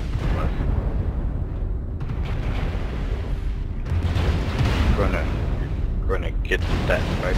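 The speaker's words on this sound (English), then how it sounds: "This archer was just sitting there shooting his LRMs at him" In MechWarrior Online, an Archer mech fires LRM missiles, giving dense rumbling booms and bursting explosions under a continuous roar of battle, loud and near, with a voice talking over it.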